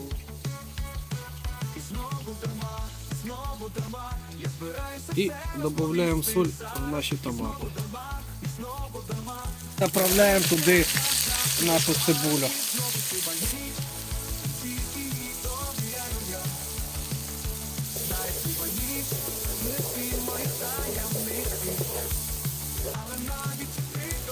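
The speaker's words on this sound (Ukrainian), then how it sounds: "наша картопля піджарилась, ми її дістаємо" Potatoes fry in a cauldron with a steady crackling sizzle throughout, swelling louder for a few seconds partway through as the pan is disturbed, with occasional stirring and scraping beneath it.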